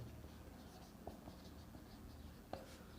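Pen writing out a geometry solution on paper for a class 10 maths exercise, faint continuous scratching with a couple of light taps, close but quiet.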